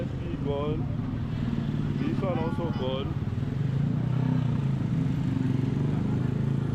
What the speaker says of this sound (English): It's constantly busy with cars, motorbikes, and people moving through all day.